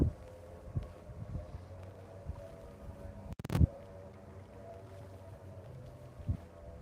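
Wind buffets the microphone while kayak fishing, a low steady rumble with a few gusts and one sharp thump partway through, and no voices.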